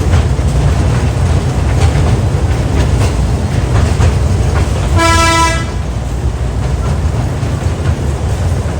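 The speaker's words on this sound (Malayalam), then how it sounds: "ഇപ്പോൾ പക്ക നമ്മുടെ ട്രെയിനിൻ്റെ സൗണ്ട് വന്നു കേട്ടോ" Museum train running along its track at the National Rail Museum, Delhi, with a steady rumble and clatter throughout and one short, loud horn toot about halfway through.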